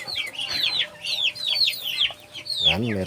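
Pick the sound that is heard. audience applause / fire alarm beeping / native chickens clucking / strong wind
native chickens clucking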